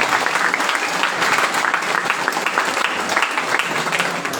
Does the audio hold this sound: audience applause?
yes